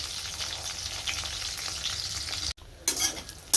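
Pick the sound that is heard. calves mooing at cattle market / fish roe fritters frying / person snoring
fish roe fritters frying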